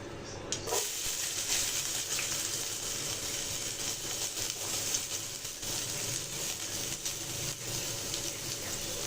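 Onions tipped into hot oil with curry leaves and popped mustard seeds sizzle loudly, a sudden burst at the start settling into a steady, close frying hiss that runs throughout.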